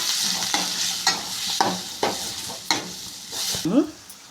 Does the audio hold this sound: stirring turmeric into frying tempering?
yes